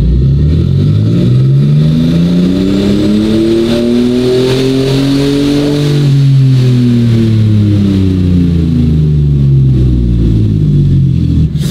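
A car with a Toyota 2JZ engine revs up loudly and continuously, the engine pitch climbing steadily, peaking, then falling away before rising again, very close and with no talk.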